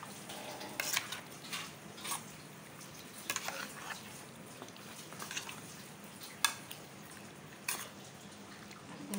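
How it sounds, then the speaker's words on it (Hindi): Spicy koila karahi with Shan masala being stirred in a pot, giving soft scraping and clinking of a spoon against the metal and a faint sizzle in a quiet kitchen. "बस ये मैं मिक्स कर रही हूँ।"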